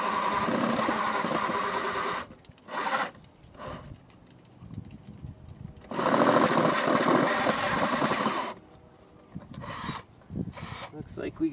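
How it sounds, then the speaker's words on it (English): A cordless drill with a 2 1/8 inch hole saw bit grinds through wood for a birdhouse in several bursts, a rough buzzing whir that starts and stops repeatedly, close by. "we'll use a drill"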